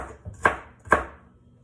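A knife chops beet greens on a board in two crisp, close cuts about half a second apart, with quiet gaps around them.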